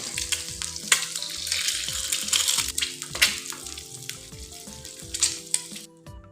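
An egg sizzling and spitting in hot oil in a pan for a pantua pitha recipe, steady loud crackle close up with a few scraping stirs and no talk.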